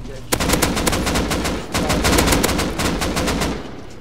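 Heavy close gunfire in the survival game Rust, where a player holds a double-barrel shotgun among other weapons: dense, loud rapid shots in a continuous rattling stream lasting several seconds, with no talk over it.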